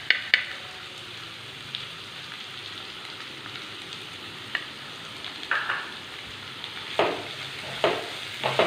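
Chopped onions sautéing with salt in a pan over a medium flame, a steady soft sizzle with occasional sharper bursts and light stirring scrapes, close and moderately quiet, no voices.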